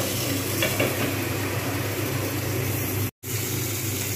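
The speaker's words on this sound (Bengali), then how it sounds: "পটল ভাজা হয়ে গেছে" Pointed gourd (potol) fries in oil while being stirred in a pan, giving a steady dense sizzle with occasional scraping strokes, close and continuous except for a brief silent gap near the end.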